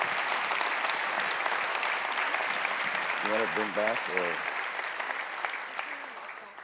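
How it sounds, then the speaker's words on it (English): Applause from a conference audience at a robotics event for two speakers on stage, sustained and crowd-wide, with a brief spoken exchange heard over the clapping partway through as it slowly fades. "Let's give another round of applause."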